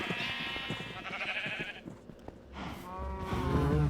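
Sheep in the Minecraft video game bleat several times in quick succession, clear and close, a wavering nasal bleat repeated over a faint game background.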